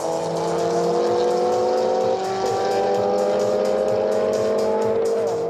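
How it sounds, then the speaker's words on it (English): Cars drag race flat out over a quarter mile on a public street in Moscow at night, engines roaring loud and sustained with rising revs as they accelerate hard. "It's a quarter-mile drag race flat out, but it's a public street."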